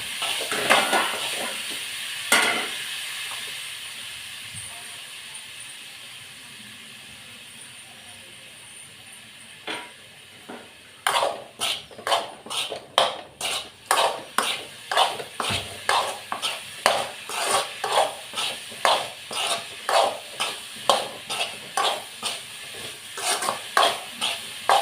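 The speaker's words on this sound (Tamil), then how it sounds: "இப்போ நான் இது வந்து சிம்மில் வச்சு வதக்குறேன்." Cauliflower sautéing on a low flame for a village-style lunch fry, with a soft sizzle under a long run of regular metal clinks and scrapes from the stirring spoon striking the pan, growing busier and rhythmic in the second half.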